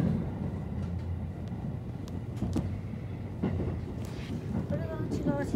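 Riding aboard a JR 271 series Kansai Airport express as it passes Ibaraki station, a steady low rumble of the moving train with faint clacks and hum, a voice talking briefly over it.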